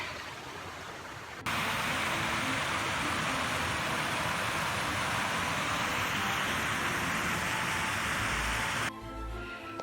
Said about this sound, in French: Petite cascade, toute petite.